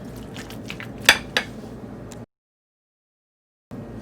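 Chicken fajita ingredients being stirred together in a bowl: soft scraping with two sharp utensil clinks against the bowl, then a break of silence before the quiet mixing noise resumes.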